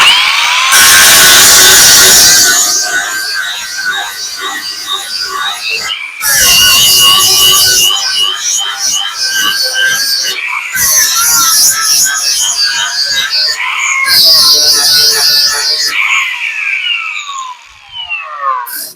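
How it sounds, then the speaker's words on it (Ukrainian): A loud angle grinder with a 3M Cubitron fibre sanding disc at speed setting 6 whines in long bursts, its high pitch wavering as the disc presses into the work, with brief pauses between passes. "Швидкість у нас є 6. Максимальна болгарка має підтримку обертів."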